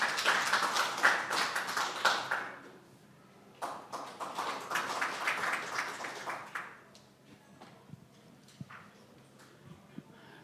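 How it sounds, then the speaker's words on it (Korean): Audience applause welcomes a speaker at the founding assembly and inauguration of a Korean parliamentary association. Bursts of clapping rise and fade in waves and thin out into scattered claps near the end. "여러분 더욱더 큰 박수로 환영해 주시기 바랍니다"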